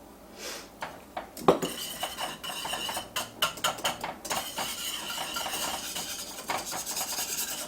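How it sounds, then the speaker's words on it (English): Cubes of frozen butter whisked in a pan, a steady metallic scraping and rasping with occasional clinks of the whisk against the pan, continuous and fairly close, no voices. "So I'm just going to slowly whisk in the cubes until they melt."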